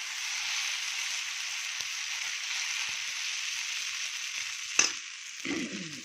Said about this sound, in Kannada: ಇವಾಗ ಇನ್ನೊಂದು ದೋಸೆ ಹುಯ್ಯೋಣ ಇದೇ ರೀತಿ ಎರಡನೇ ದೋಸೆ ಚೆನ್ನಾಗಿ ಬರುತ್ತೆ